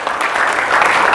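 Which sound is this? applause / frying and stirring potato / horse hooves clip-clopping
applause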